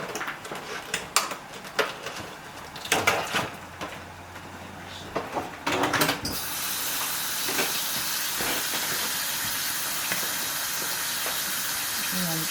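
Land O'Lakes butter sizzles in a hot pan on a kitchen stove, a steady broadband hiss that rises abruptly and holds loud and close after a stretch of clattering kitchen handling.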